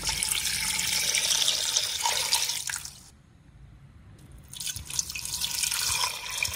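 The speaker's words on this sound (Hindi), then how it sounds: "अब इसमें पानी डालूंगी।" Water gushes steadily from a glass into a pressure cooker holding yakhni ingredients, a loud splashing pour that pauses briefly and then resumes, with no talking.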